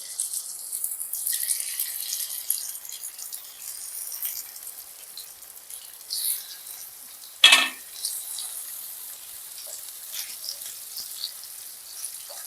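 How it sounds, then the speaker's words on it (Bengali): Rohu fish pieces fry in hot mustard oil with a faint, thin hiss throughout, broken once by a single sharp metallic clank midway. "তেল গরম হয়ে গেছে, এবার মাছগুলোকে আমি ভেজে নেব।"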